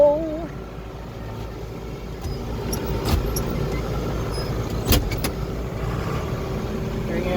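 A tractor engine idles and runs steadily as its PTO drives a hay baler in a field, a low continuous rumble with occasional clanks and knocks, faint voice near the start.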